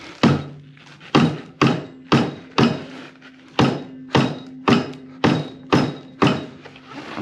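Repeated hammer-like blows on a KOMOTO X1500 electric snow scooter during rear track removal, about a dozen loud, close thuds at a steady pace, each with a short metallic ring and a low hum in between.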